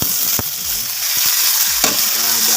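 Onion and garlic fry in a pan with a steady, loud hiss, broken by a few sharp clinks and scrapes of a spoon against the metal.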